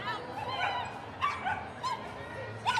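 Dogs at a flyball tournament give several excited, high-pitched yips and barks spaced across a few seconds, with crowd noise and voices in the background.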